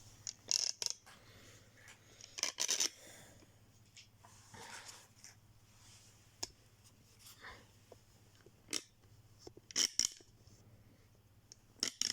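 Oracle cards being shuffled by hand, a series of crisp riffling flutters and light card slaps coming in short separate bursts over a quiet room with a low steady hum.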